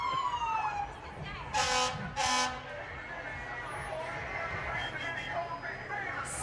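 Salem Fire and Rescue 2014 Pierce pumper tanker sounding its siren in a Christmas parade: a wailing siren with two loud horn blasts, heard at moderate distance over steady street noise.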